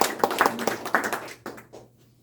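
A small group at a Korean fathers' class claps briefly, a short burst of scattered hand claps that quickly fades out within about two seconds.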